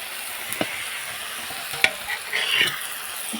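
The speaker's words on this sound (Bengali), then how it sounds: "এটা দিয়ে একটু নাড়িয়ে নিচ্ছি," Fried potatoes being stirred with cumin and coriander powder in a pan, a soft sizzle with a few sharp scrapes and knocks of the spoon, close and without talk.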